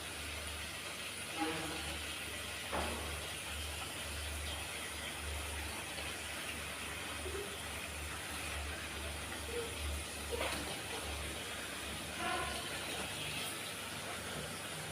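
Stuffed brinjal sizzles in hot oil as it sautés, a steady soft hiss with a few brief crackles and stirring clinks, and a faint voice now and then.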